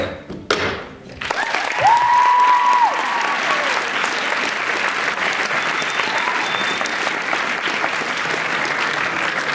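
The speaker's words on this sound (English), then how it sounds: "Let's give one huge round of applause for all three of these amazing music." A student audience bursts into loud, sustained applause after a student council presidential campaign speech, dense clapping filling the room for several seconds with a brief tone and some crowd noise in the background.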